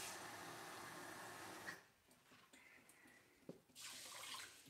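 Cold tap water runs steadily for cooking rice, a loud hissing stream that stops partway through, leaving quieter clinks and splashes before the flow starts again.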